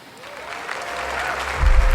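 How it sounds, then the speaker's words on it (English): Audience applause at EA's E3 2015 press conference, a steady crowd clapping that swells louder toward the end, with no talk over it. "Claps."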